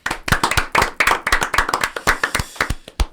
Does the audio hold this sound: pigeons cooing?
no